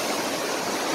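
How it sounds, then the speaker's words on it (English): Fast-moving stream water rushing steadily outdoors on a windy day, a loud continuous broadband roar with no gaps and no voices. "Fast moving water."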